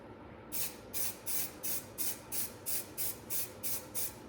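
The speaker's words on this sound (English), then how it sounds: "This is literally just a little protective coat on any bare metal areas" Rhythmic bursts of aerosol spray, about nine short hisses in steady succession, laying a light protective coat over bare metal spots rubbed through by a wire wheel; close and alone.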